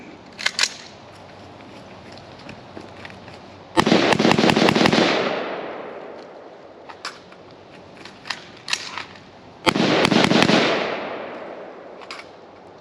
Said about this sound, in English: Fox is going to do the last mags through the LMT as we start to lose some daylight.